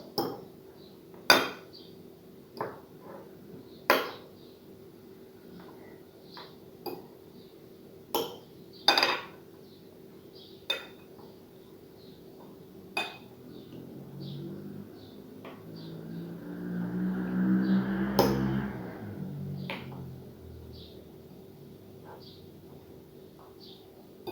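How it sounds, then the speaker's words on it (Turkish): A metal fork mashes ripe avocado in a bowl, giving a dozen sharp clinks and taps at a slow irregular rhythm, followed by a softer, longer squashing scrape, close by and fairly quiet. "şimdi çatalımızla eziyoruz"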